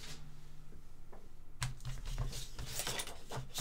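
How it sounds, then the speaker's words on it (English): Paper being cut into a half-inch strip for card making: quiet at first, then a dense run of crisp, rapid cutting ticks and rasps in the second half, close by, with no talk. "I'm gonna cut myself a half inch strip"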